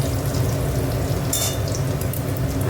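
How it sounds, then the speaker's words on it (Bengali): A bay leaf sizzles in hot oil in a pan where bitter gourd has just been fried for dal, giving a steady, close crackling hiss with a few brighter spits. "এর মধ্যেই তেজপাতাটা দিয়ে দেবো।"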